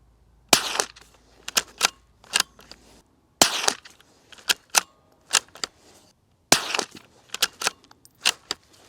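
A Ruger Precision Rimfire .22 LR rifle fitted with a Gemtech 22 suppressor fires a string of sharp, close reports in irregular groups, each snap followed by faint clicks and mechanical clatter, with no talk.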